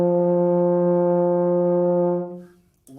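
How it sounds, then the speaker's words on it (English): Baritone or euphonium holding a single low F, a steady, warm brass tone sustained for about two seconds before fading out, played alone with no talk. "the first note we're going to play on our baritone or euphonium is going to be called the F."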